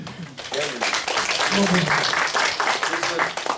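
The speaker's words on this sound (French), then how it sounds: "Applaudissements." Applause from a French-speaking church congregation welcoming a visitor, a continuous wash of clapping held for several seconds while voices carry on over it.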